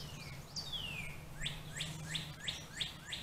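Several bright bird chirps ring out at an outdoor campsite kitchen, a long descending whistle followed by a rapid series of short rising tweets, close by over a low steady hum.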